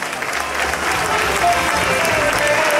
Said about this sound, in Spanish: Un fuerte aplauso para Marina